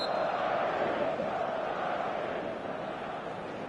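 Passionate crowd at an evening football match on a clear night, a steady, loud wash of many voices roaring and murmuring throughout, dipping slightly near the end.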